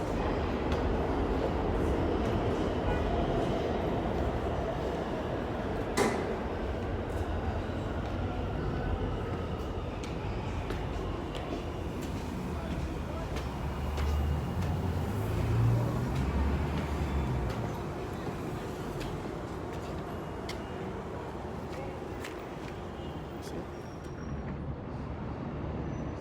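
Continuous rumble of rail cars and machinery fills a large space, with occasional metallic clanks and hisses, no clear voices.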